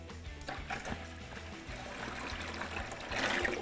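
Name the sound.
stirring epoxy part A with a paint stick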